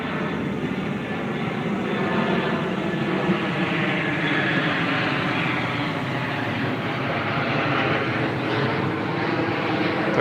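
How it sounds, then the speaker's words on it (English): A low-flying airplane descends overhead toward Albany International Airport with its landing gear down, a steady broadband engine roar that stays loud and continuous throughout. "They're going to Albany International Airport right now. They're about to land. Landing gear out and everything."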